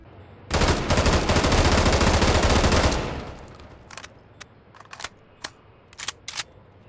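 A Pulse SMG from a Half-Life 2 roleplay game fires a fast, dense, loud burst lasting about two and a half seconds, then tails off into scattered single shots and mechanical clicks, with no voices.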